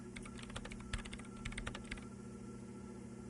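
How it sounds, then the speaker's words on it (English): Rapid keystrokes come in short bursts as a woman's hands type commands into a machine keyboard in Disco Elysium, then they stop. The typing is soft and close over a steady low background hum. "her hands typing hundreds of commands into the machine"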